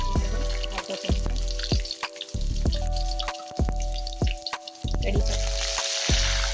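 Cumin and garlic fry in hot oil for a grated potato bhaji, giving a steady, loud sizzle close by, broken by repeated clicks and scrapes of a utensil against the pan.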